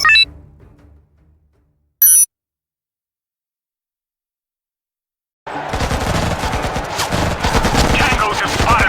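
Gunfire from the real-time strategy game Act of War: Direct Action: after two brief blips and a stretch of silence, a loud, dense rattle of machine-gun fire runs steadily to the end.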